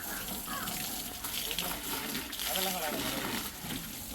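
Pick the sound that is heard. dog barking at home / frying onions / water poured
water poured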